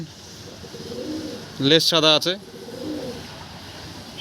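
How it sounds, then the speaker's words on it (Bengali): Pigeons in a dealer's market collection, including a pair of green pigeons, give a brief burst of throaty cooing close by, while someone talks over steady background noise before and after. "এই যে আরেক পেয়ার সবুজ পায়রা দেখুন"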